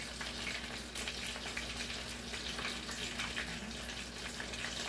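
Tofu that was frozen twice fries in a pan with a steady, close, continuous sizzle and crackle, holding even and fairly loud throughout with no talking.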